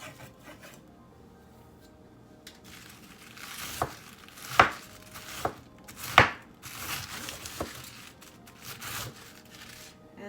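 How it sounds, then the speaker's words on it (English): Cabbage chopped with a knife on a board for stuffing a Jamaican oven-roasted fish: a run of close, sharp chops at an uneven pace, a few landing much harder than the rest, with no talking. "first we're going to cut up our cabbage and we're going to add it to a bowl"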